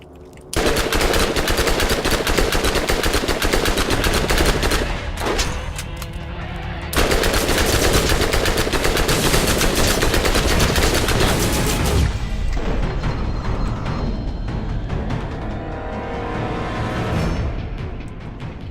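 Sustained rapid gunfire from weapons in Borderlands, loud continuous bursts of automatic fire with a few short breaks between volleys, running almost the whole time.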